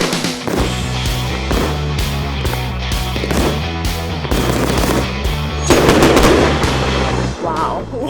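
A large fireworks cake fires many shots in a continuous loud barrage of booming, crackling bursts, dense and rapid throughout, with no pause between shots.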